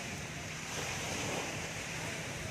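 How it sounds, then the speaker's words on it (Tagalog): A steady, roaring rush of strong wind at a beach on Balut Island, full and unbroken, with a surf-like wash underneath and no voices. "Lakas ng hangin"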